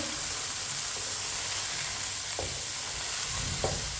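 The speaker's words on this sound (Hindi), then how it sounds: "इसे ऐसे ही चम्मच चलाते हुए 2 मिनट के लिए पका लेंगे" Finely chopped cabbage and fresh peas sizzle steadily in a pan while a spoon stirs through them, giving a few soft scrapes over the constant frying hiss, with no voices.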